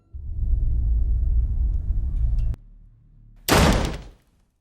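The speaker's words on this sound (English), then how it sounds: "the door to that room slams shut violently" A low rumble cuts off with a sharp crack, then a loud, harsh bang as a small room's door slams shut violently in a horror film, quickly fading to silence.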